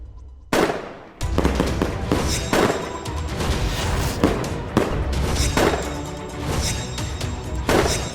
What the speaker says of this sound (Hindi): ये कौन है जो बिना बार त्योहार पटाखे फोड़ रहा है?